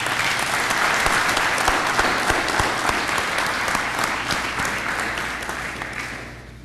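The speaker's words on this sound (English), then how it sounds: "Let's have one more round of applause for all the recipients." An audience at a police awards presentation claps for the award recipients, with dense, steady applause that slowly thins and fades near the end.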